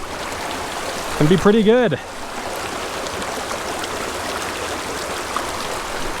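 A small creek flows in a steady, broadband wash of moving water, close and continuous throughout, with a person's voice speaking briefly over it near the start.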